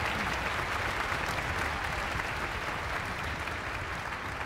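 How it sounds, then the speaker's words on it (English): A large concert audience at a Philadelphia high school music festival claps in a steady, dense wash of applause that holds evenly throughout, with little talk. "you can please give them a round of applause"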